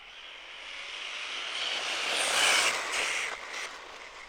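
A Traxxas Slash 4x4 RC car in an ultimate basher build, running on 3S or 4S power, speeds past at throttle. Its high, airy whine and tire roar swell to a peak midway, then fade as it moves away, with no talk.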